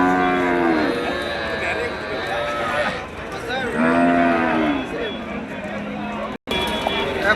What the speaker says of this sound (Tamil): மணப்பாறை காளை, வண்டி காளை, விவசாயத்துக்கு ஆகும்.